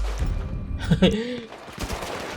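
Gunfire in the GTA V video game comes as a few quick, close shots mixed with a brief voice, then softer rattling bursts trail off.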